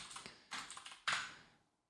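Quick bursts of keystrokes clatter on a computer keyboard, three short clusters of clicks, close and fairly quiet, with no voices.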